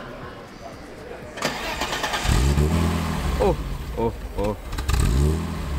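Original BMW E30 325i inline-six cranking and catching, then blipped through several sharp revs that rise and fall, close by, with a voice briefly exclaiming.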